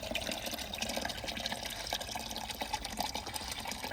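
Water runs steadily into a drinking container set out for pigeons, a continuous splashing fill with a few drip-like spatters throughout and no voices.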